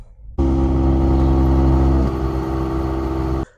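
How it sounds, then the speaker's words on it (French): Mercedes-AMG GLE 53 inline-six engine starting: a sharp crank catches into a loud, steady idle that holds, then eases slightly lower partway through, close and alone. "je vais vous allumer la voiture"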